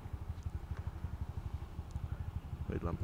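A Honda Genio scooter engine idles close by with a fast, even putter that continues steadily, while someone talks over it near the end.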